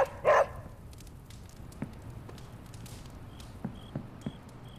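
A dog in the video game Marvel's Midnight Suns gives one short, loud bark at the start, followed by faint scattered taps and footsteps in a quiet game scene.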